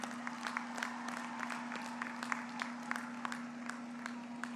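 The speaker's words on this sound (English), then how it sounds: "Let's give them a round of applause" Sparse, distant applause from a graduation ceremony crowd, scattered individual claps over a steady low hum, fairly faint.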